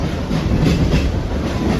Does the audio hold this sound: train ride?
yes